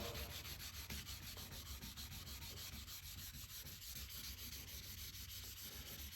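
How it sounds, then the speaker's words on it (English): Continuous rhythmic rubbing as 2000-grit sandpaper wet-sands a BMW 750i's paint back and forth by hand, close and steady with no voices. "Anytime you're wet sanding something, you do not want to be too close to the edges."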